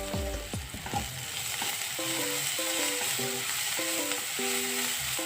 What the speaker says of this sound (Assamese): এতিয়া অলপ সময় ভাজিব লাগিব পিঁয়াজখিনি